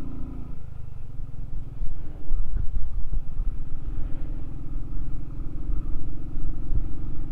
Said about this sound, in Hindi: देखो गाड़ी भी बोल रही है हमारी, अब क्यों खींच रहे हो आज इतना